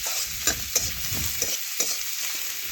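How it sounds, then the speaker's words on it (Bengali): Chopped onions fry in hot oil with a steady close sizzle, while a utensil stirs them in the pan with several distinct scraping clicks spread irregularly through the sizzle. "দেখুন পেঁয়াজ একটু নাড়াচাড়া করে তেলের সাথে ভালোভাবে একটু ভেজে নিচ্ছি।"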